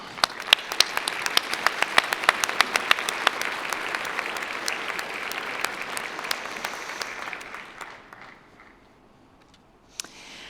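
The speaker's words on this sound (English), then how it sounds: "So a big applause to all of us." Audience applause at the World Biodiversity Forum 2026 opening panel in Davos, a steady clatter of many hands that thins out and stops near the end, leaving a last lone clap.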